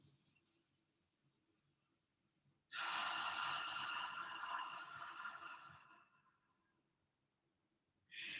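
One long, deep breath is drawn in and slowly released up close during a stretching session, a steady airy rush that fades out, followed by the start of another breath.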